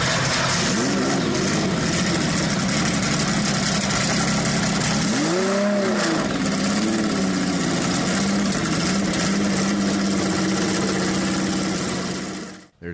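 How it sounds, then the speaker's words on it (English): A Porsche 917 race car engine fires up close by, rising and falling in sharp revving sweeps before settling into a loud, rough, steady idle that cuts off abruptly at the end. "the sound of a 917 starting up and revving"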